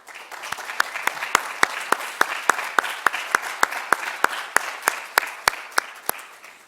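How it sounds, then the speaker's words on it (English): An audience at a lecture applauds its speakers, curators and funders with sparse individual claps in an uneven rhythm over a soft bed of wider clapping. "Please join me in applauding our gifted, generous speakers, curators,"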